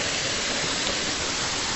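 The Cascade des Quaires waterfall pours with a steady, dense roar, close and continuous with no voices.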